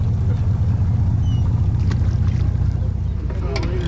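A sportfishing boat's engine rumbles steadily and close off Point Loma, San Diego, a constant low drone with faint wind noise over it.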